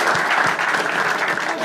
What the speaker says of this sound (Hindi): एक बार जोरदार ताली हमारे साथ